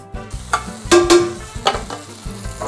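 Chicken breast and aubergine sizzle in a frying pan while being stirred, with a series of scraping clatters and bursts of hissing.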